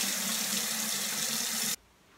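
Tap water running in a sink while a makeup brush is rinsed, a steady close gushing stream with a low hum, cut off abruptly near the end.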